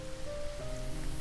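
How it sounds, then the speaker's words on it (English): Steady rain falls outside, heard as an even, soft hiss with no talking. "Outside, the rain fell harder."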